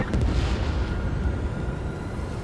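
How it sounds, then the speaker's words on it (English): Heavy booming blasts and rumbling missile explosions from the aerial combat game Ace Combat 7 fill the whole stretch, loud and dense, with no voices. "Missile away."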